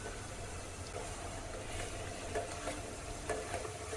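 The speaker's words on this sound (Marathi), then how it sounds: "तो सुद्धा आपल्या ह्या मसाल्यासोबत छान तेल सुटेपर्यंत भाजून घ्यायचं आहे" Ground onion-garlic masala roasts and is stirred in oil for a spicy Kolhapuri misal, giving a quiet steady sizzle with soft scraping stirs and a low background hum.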